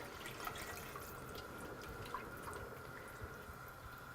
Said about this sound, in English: the tomatoes are in, and then 2 cups of water.